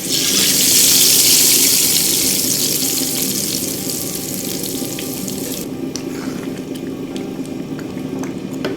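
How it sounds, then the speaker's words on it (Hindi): Tempering poured into a pot of chana dal gosht gives a loud burst of hissing sizzle at the start, settling into a steady bubbling simmer with a few small crackles near the end. "दाल को जो हमने तड़का तैयार किया था वो इसमें शामिल कर देना है।"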